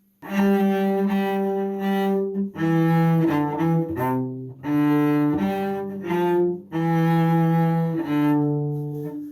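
A cello plays a slow, lyrical line from Suzuki Book 2 Minuet No. 1, with sustained bowed notes in phrases separated by short breaths, warm and close, unaccompanied.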